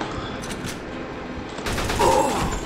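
Bursts of rapid MP-40 submachine gun fire in the video game Mafia 2, growing louder and denser partway through, with crackling shots over a steady background.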